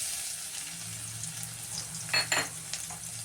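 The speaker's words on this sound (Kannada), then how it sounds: "ಈಗ ಒಂದು ಫ್ರೈ ಮಾಡ್ತಾಯಿದ್ದೀನಿ. ಬೆಳ್ಳುಳ್ಳಿ ಫ್ರೈ ಆಗಿದೆ." Crushed garlic and mustard seeds frying in hot oil for vegetable sambar, a steady close sizzle with a couple of brief metallic stirring clinks, no talking.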